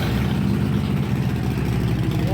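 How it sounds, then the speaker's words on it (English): A 2014 Harley Davidson motorcycle engine idles while warming up, a loud, close, steady low-pitched rumble with an even throbbing pulse. "I just fired up the bike to warm it up."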